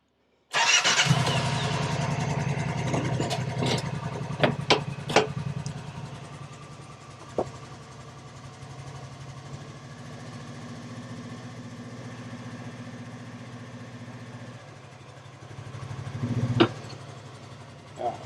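A 2023 Kawasaki Teryx 4 side-by-side starts up and runs, its engine holding a steady, droning idle with a few sharp clicks and knocks over it, then revving briefly louder near the end, close by.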